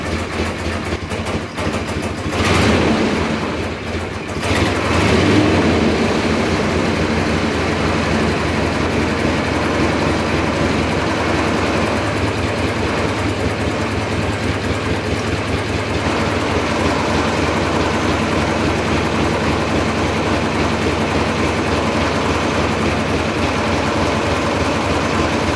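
A 1980 Harley-Davidson Shovelhead FLT motorcycle engine runs steadily with a loud, continuous rumble, revving briefly early on before settling into an even idle.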